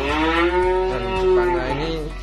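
A Simmental-type black-and-white heifer or bull at a Grobogan cattle pen moos loudly and close, one long sustained bellow with strong tonal harmonics lasting the whole moment, no talk over it.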